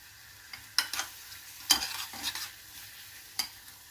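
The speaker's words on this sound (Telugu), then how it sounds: "ఇవి బాగా ఫ్రై అవ్వాలి" Onions frying with ginger garlic paste, garam masala, coriander powder, cumin powder, chilli and turmeric for chicken curry, quiet background sizzle broken by a few sharp spatula scrapes and stirs, no voices.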